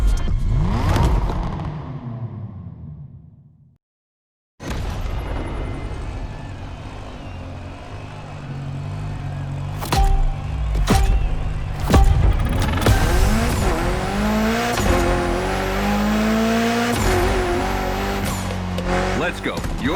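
A Mitsubishi Lancer Evo 9 revving and accelerating hard in The Crew Motorfest gymkhana, engine climbing through repeated gear-shift sweeps with tire squeal, loud and close after a brief silence, a voice talking at the start.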